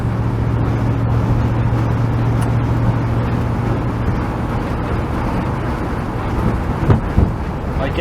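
Cab-interior drone of an old Dodge A100 truck on the road: a loud, even engine hum and road noise that holds steady, with a couple of small bumps near the end.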